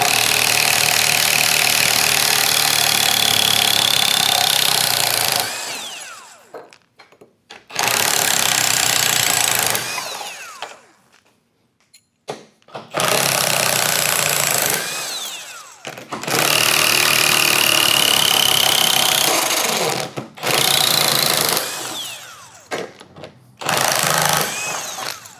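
A Kobalt 24V cordless 1/2-inch impact wrench hammers loudly and close up in several separate bursts as it breaks bolts loose, each run a few seconds long with short silent gaps between.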